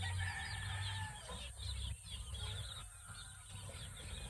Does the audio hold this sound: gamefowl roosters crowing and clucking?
yes